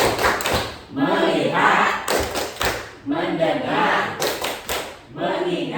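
A group claps in a Tepuk fokus clapping game, with loud rhythmic bursts of hand claps and thuds. The claps fall in repeating patterns under chanted spoken words.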